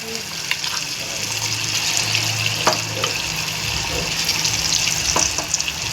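Marinated chicken 65 pieces fry in hot oil with a loud, steady, gushing sizzle that fills the whole stretch, with a few light clicks and some talk underneath.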